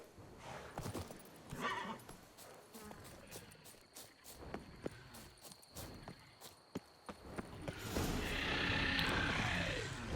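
Geralt's horse Roach in Witcher 3 clops along at a steady pace, hoofbeats close and distinct, then lets out a loud whinny near the end against faint insect and cricket ambience.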